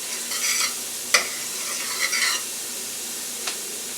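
Garlic paste sizzles softly in hot frying oil, a steady low hiss with a few sharp clinks of a utensil against the pan.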